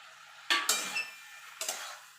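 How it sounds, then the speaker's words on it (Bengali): Boiled green jackfruit being stirred into a cooked spice masala in a pan, with two quick bursts of spatula scraping and clanking against the metal, close by and brief, separated by a short quiet gap. "ভালো করে মশলাটা ইঁচড়ের সঙ্গে মিশিয়ে নেব"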